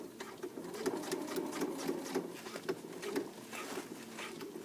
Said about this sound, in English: I can sew right on top of my webbing just like I did before